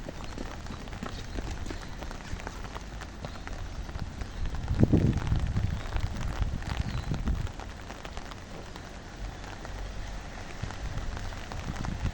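Steady rain falls on an outdoor surface on a cool day, a continuous broadband patter with no talk, swelling briefly louder midway before settling back to an even wash.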